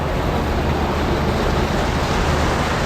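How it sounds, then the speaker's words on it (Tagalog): A roadside storm brings heavy rain as a dense, constant roar of broadband noise, loud and unbroken throughout, with no voices over it. "Grabe yung ulan."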